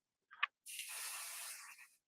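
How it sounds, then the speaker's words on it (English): A spray can gives a short click and then one steady hiss lasting over a second as it coats the back of an object, close and clear with no talking. "I'm going to spray the back of this."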